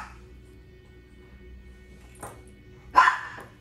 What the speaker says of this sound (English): His brother is barking.